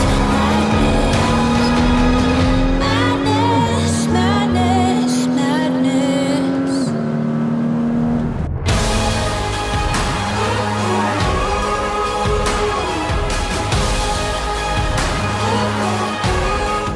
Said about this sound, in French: ce que j'aime dans ce flat 6, c'est qu'il a un son très sympa, il est très rauque